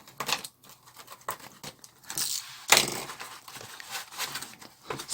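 Pieces being broken and torn off a handmade Halloween tombstone prop to leave rough, quarried-looking edges, heard as close, irregular crinkling, snapping and crumbling bursts with brief pauses between, and no voices.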